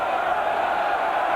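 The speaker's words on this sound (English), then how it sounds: "the crowd is cheering for him to go after it" A large home crowd roars steadily at a 1994 CFL football game between the Winnipeg Blue Bombers and Baltimore, a broad, sustained cheer that holds at an even level throughout.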